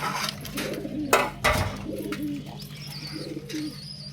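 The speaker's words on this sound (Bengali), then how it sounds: "সামনে যে দোবাস টাইপের কবুতরটা আছে" Pigeons of a dobash type coo softly on a home balcony, repeated low throaty calls close by with a few light rustles and knocks between them.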